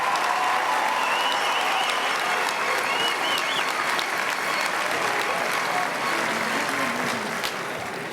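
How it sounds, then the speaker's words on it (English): A graduation crowd applauds graduating students, sustained loud clapping with cheers and whoops mixed in, steady from start to finish. "Audience, please give all of these students a round of applause for pursuing their higher education and training."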